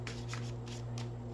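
A tarot card deck is shuffled close by in several quick riffling bursts over a steady low electrical hum, with no talking.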